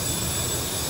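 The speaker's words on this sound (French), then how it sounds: "il surchauffe quand tu laisses les gaz allumés et que tu es en train d'allumer le moteur" A military jet's engine spools up during startup in the DCS flight simulator game, with the throttle left open so it overheats, giving a dense steady roar and whine that stays loud and even throughout.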